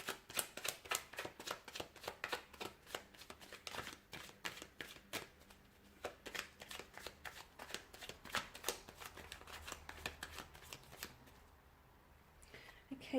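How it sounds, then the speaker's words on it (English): A deck of tarot cards is shuffled close by in quick riffling bursts, steady crisp flutters repeating for several seconds before tapering off into near silence. "So I'll go ahead and give the cards a shuffle here"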